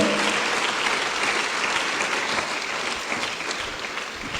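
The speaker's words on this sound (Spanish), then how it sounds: "Dele fuerte, fuerte las palmas al Señor." A large church congregation claps loudly and continuously during worship, a thick wash of hand claps that stays strong throughout.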